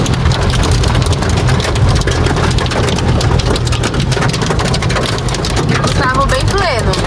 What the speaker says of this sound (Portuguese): Eita, tá chovendo granizo agora.